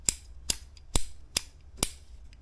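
Five crisp, evenly spaced metallic clicks from a rifle trigger during a dry-fire safety check on an Armaspec Gen 4 SRS trigger setup with a bolt extension, close and sharp against a quiet background.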